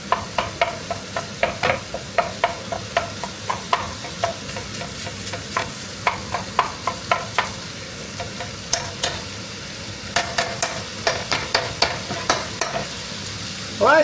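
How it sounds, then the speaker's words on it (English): Chilli mince browning in a hot pan: a soft continuous sizzle punctuated by steady, repeated scraping stirs of a spatula, coming faster toward the end, close and clear with no voices. "So we're going to basically cook this until it's browned off."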